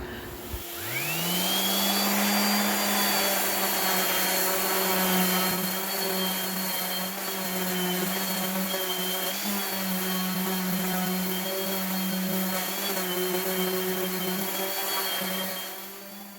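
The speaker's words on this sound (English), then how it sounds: "that sanding worked out perfect." A power sander works a live edge oak slab with 220 grit paper, a steady loud whine holding for about fifteen seconds after a quick spin-up, then winding down near the end.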